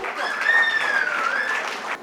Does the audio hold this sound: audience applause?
yes